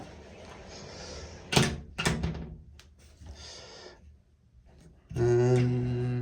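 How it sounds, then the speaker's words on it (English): A sliding bathroom door in a Paris hotel room, moved with a couple of sharp thuds and rattling scrapes in quick succession, fairly close, followed by quiet and then a steady hum. "slidey door."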